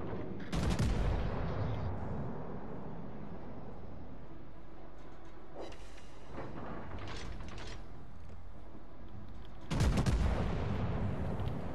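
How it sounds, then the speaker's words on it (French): Heavy warship naval guns boom in World of Warships, two loud broadband salvo blasts about nine seconds apart over a constant low rumble of engine and sea ambience, with no talking. "il y a tous mes canons qui sont utilisés"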